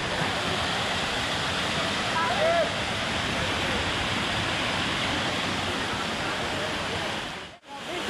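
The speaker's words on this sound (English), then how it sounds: "And arriving to the first waterfall." Jungle waterfall at Guejar Park in Meta, Colombia, a loud steady rush of falling water filling the whole stretch, close by, with a brief faint voice and a short dropout near the end.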